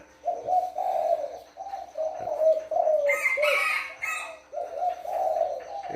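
Spotted dove of the one-kook call type, a three-year-old decoy bird, gives repeated deep, mid-pitched coos in close, loud phrases, with a brief rougher burst of another bird near the middle.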